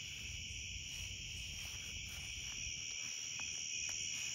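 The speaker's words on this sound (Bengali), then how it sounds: "এখানে ঝিঁঝি পোকার ডাক শুনছেন।" Crickets chirp in a continuous, high, steady trill, faint and unbroken from start to finish, with a low background murmur beneath and no voices.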